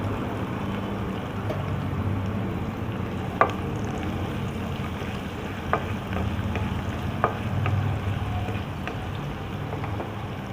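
Chopped garlic sizzles in hot oil in a home kitchen, a steady dense frying hiss with a few sharp clinks of a utensil against the pan, close and without talk.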